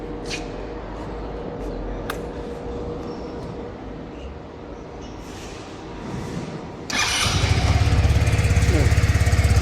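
An air-cooled Kymco Skytown 125 scooter engine cranks and catches near the end, settling into a loud, steady running hum after a quieter stretch of ambient noise.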